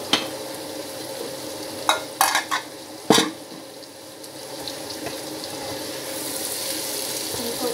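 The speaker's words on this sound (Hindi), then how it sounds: "इनको अच्छी तरह भून लेंगे।" Vegetables and chopped tomatoes being stir-fried in a pot for vegetable pulao, giving a low steady sizzle, with a few sharp spoon clatters bunched in the middle and then a softer, continuous frying hiss.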